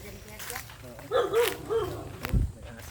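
A dog barks outdoors in a short burst of several yelping barks midway, at moderate distance, amid faint rustling and footsteps.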